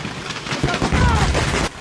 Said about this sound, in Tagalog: sunod-sunod na sumabog ang mga paputok sa baba